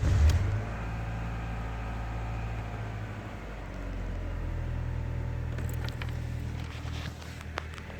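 Car with battery problems starting up, a brief crank that catches into a steady idling engine rumble, low and even at moderate level, with small clicks and knocks near the end.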